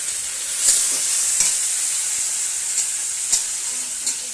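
Raisins frying in a pan for fried rice give off a steady, bright sizzle, with a few soft clinks of stirring now and then, and no voices.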